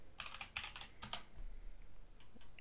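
A short burst of computer-keyboard typing while entering a server operator command in a Minecraft server console, two quick clusters of close, quiet keystrokes with no talking.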